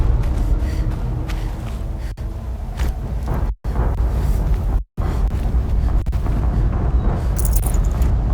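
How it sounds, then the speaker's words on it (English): Loud, sustained blasts and rumbling in the video game Horizon Zero Dawn, with dense low-end roar filling the whole stretch, two brief cut-outs to silence, and crackling debris near the end. "Explosion."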